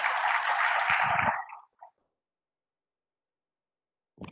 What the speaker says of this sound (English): Let's give one more round of applause to Dr.